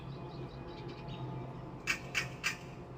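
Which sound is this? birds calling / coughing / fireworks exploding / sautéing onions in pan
birds calling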